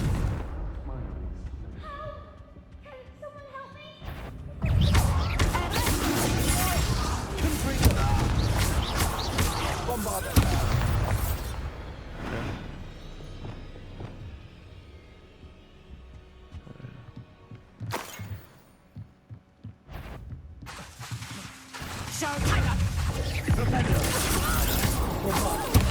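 Confringo spell blasts in Hogwarts Legacy, loud explosive bursts and crashing impacts in a busy, layered combat mix with roaring rumbles, dropping briefly before another heavy surge.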